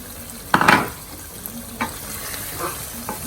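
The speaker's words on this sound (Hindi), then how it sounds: "भूनते हुए 5 मिनट और हो गए हैं।" Lamb bhuna masala frying in a pan, with a loud stirring scrape and sizzle near the start, then quieter intermittent scrapes and a low steady sizzle.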